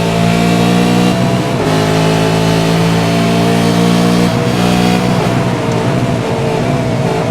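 A V8 Supercar race car engine in the iRacing video game revs loud and steady at a Montreal circuit, holding a constant mid-pitched drone with harmonic bands that dip and rise twice as the throttle shifts.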